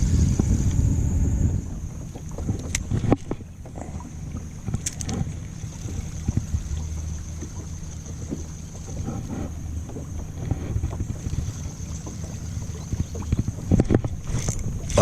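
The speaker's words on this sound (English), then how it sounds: "Got a nice little breeze going." Steady wind rushes across a small fishing boat out on open water in blustery conditions, a continuous broadband roar with buffeting microphone gusts and a few faint knocks and taps, with no talking.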